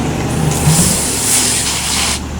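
Water is sprayed onto a homemade Halloween tombstone before painting, a loud, steady hiss of spray running for about two seconds over a rumbling background.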